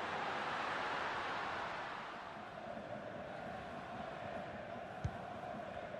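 Stadium crowd noise from a FIFA 23 football match, a dense continuous roar that swells early then settles into a steady hum, with a single brief thud partway through and no clear commentary over it.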